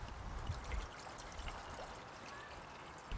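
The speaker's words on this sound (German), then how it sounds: "ich schütte mal fast ein halbes Liter Wasser hier rein" Nearly half a litre of water is poured into the pot of a large Esbit stove, a soft, steady trickling stream lasting a few seconds, faint and close, with a couple of light knocks.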